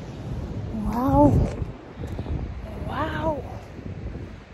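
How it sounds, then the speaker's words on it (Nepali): Wind gusts outdoors during a morning walk, a steady low rumble of buffeting air across the whole stretch, with a voice talking over it twice. "हावा चल्यो, हावा चल्यो"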